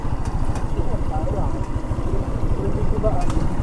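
A loaded vehicle's engine runs with a fast, even low pulsing and a strained whine riding over it, loud and close throughout, with faint voices now and then.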